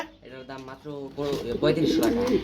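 A male blue bar fancy pigeon coos in repeated rolling notes close by, while a person talks over it.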